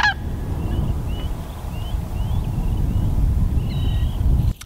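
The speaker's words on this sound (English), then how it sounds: "These cranes are all coming in to spend the night on a pond that was just about 2 miles from our campground" Cranes call in repeated faint, high honking bursts as they fly in at dusk to roost on a pond at Bosque del Apache NWR, heard over a steady low rumble of wind and background noise.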